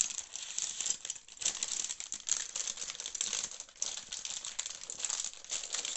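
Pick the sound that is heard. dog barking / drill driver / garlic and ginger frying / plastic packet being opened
plastic packet being opened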